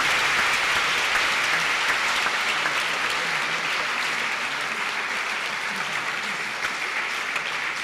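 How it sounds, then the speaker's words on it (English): An audience applauds after an interview at a Ghana Our Motherland event, a loud, dense and steady wash of clapping sustained throughout with no break. "Ladies and gentlemen, a big round of applause."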